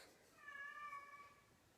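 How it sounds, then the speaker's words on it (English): A cat cries with a single drawn-out, wavering meow, faint and fairly close in an otherwise quiet room. "Cat's crying."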